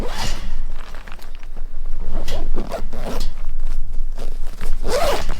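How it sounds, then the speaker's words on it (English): Zippers on a Kizer travel skate backpack being pulled closed, a series of close, loud ripping zip strokes in quick succession, with no one talking. "then get it all zipped up"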